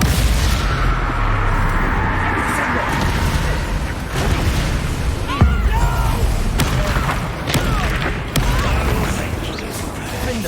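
Bombarda spell blasts and other spell effects from the video game Hogwarts Legacy boom through a dense, loud wash of game sound, with sharp bursts standing out amid continuous rumble and a voice speaking.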